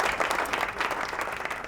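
A studio audience at a Ramadan quiz show bursts into applause after a correct answer. The dense clapping is fairly close and steady and fills the short moment with no pause.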